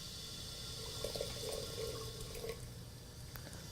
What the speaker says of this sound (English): I will add fresh water